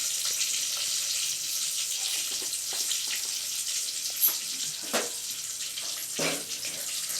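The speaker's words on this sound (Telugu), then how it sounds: "కొంచెం ఆయిల్ వేడయ్యాక కొంచెం ఆవాలు, తర్వాత దంచుకున్నాం కదా తెల్లగడ్డలు, అవి దాంట్లో వేసుకోవాలి." Mustard seeds and crushed garlic fry in hot oil, giving a steady, close broadband sizzle with a few soft clicks and stirring knocks scattered through it; no one speaks.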